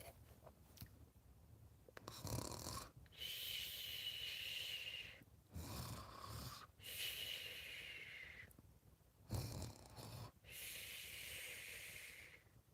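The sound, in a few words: person imitating snoring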